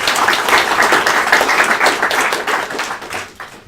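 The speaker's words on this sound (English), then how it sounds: "I think we all owe them a bit of appreciation with a round of applause" An audience at an ECDIS Day maritime presentation gives a steady round of applause. Dense clapping holds evenly for several seconds and then tapers off slightly at the end.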